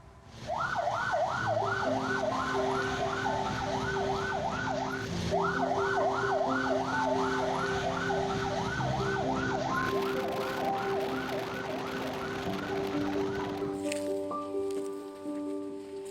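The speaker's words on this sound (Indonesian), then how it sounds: "Sirena" An emergency vehicle siren wails loudly and continuously at a COVID-19 response post, its rapid warbling yelp repeating over a low engine rumble and background noise, close by and alone.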